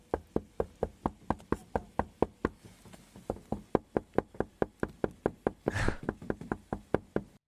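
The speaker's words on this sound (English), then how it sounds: "After banging on the windows for almost a minute" Police officers bang steadily on a parked car's windows to wake a man asleep inside, a long run of sharp, evenly spaced knocks roughly four per second, close and loud, with one brief rustling scrape midway.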